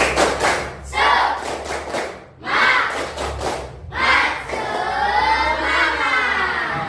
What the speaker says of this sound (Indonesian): Kita coba tepuk semangat.